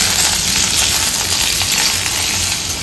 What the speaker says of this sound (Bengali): উচ্ছেটা অল্প ভাজা হয়ে গেছে, এখন কিছু সবজি দেওয়া হলো।